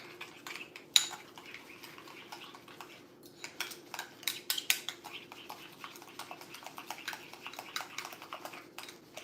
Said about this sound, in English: Now, just stir it.